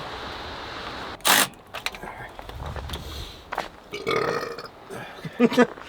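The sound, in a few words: belch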